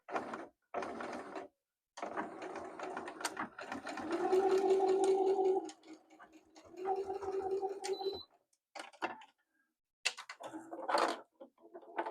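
A sewing machine stitches a seam to close a slit in fabric, running in several short bursts of steady mechanical whirring separated by brief pauses, close and moderately loud.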